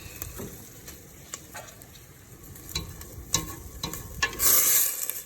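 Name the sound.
stirring tomato paste cooking in pan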